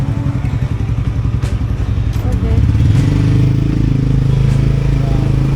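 A motorcycle engine on a toll road in Indonesia drones steadily up close, rising slightly in pitch as it accelerates, with a constant low rumble and some wind noise.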